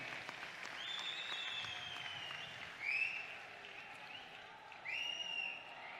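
A distant, muffled crowd at a Narendra Modi rally in Gujarat makes a steady wash of applause and noise, with shrill whistles rising above it a few times.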